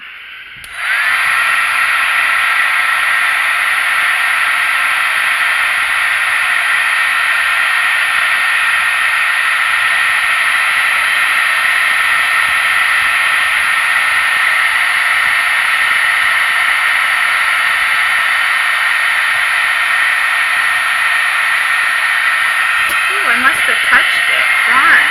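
A handheld heat tool for stamping crafts blows hot air in a loud, steady hissing whir that starts abruptly and runs unbroken for about twenty-five seconds, close to the microphone, with a faint rustle near the end.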